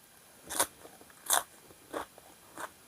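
Crisp pork rinds eaten alongside spicy Thai pork salad (nam tok moo) are bitten and chewed close up, with four sharp crunchy bites spaced evenly over a quiet background.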